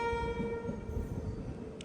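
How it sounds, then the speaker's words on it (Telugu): Locomotive of the Secunderabad–Vasco da Gama express train rumbling along, a steady close mechanical drone with a sustained tonal whine throughout, heard alone. "లోకో సౌండ్ విన్నారా?"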